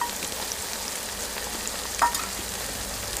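Chicken samosa filling fries in oil while being stirred, giving an even, close-up sizzle with a single brief scrape partway through.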